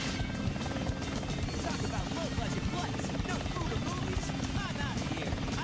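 Helicopter in the video game Sonic Adventure 2, a steady close rotor chop and engine drone running continuously without pause.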